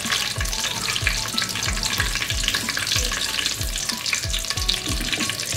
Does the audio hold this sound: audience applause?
no